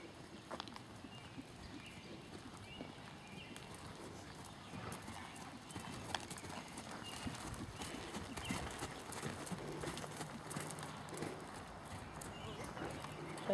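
A horse trots around an arena schooling over cross rails, its hooves beating a steady, rhythmic clip-clop throughout, with faint voices at times.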